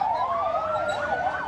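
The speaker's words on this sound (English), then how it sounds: "Sirens sounded shortly after a bomb exploded in Lahore, Pakistan, bringing chaos to the normally quiet area." Emergency sirens wail in Lahore, Pakistan after a bomb explosion, several overlapping rising-and-falling tones sweeping together, loud and fairly near.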